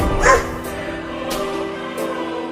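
A cartoon dog barks in a comic Hindi cartoon, giving a few quick, loud yaps spread across the moment over a light music bed, with no talking.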